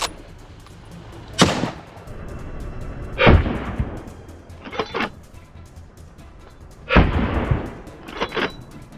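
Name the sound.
rifle gunshots in succession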